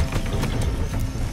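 Horse galloping in Far Cry 6, a steady run of hoofbeats with a continuous low rumble, close and fairly loud, with no talk over it.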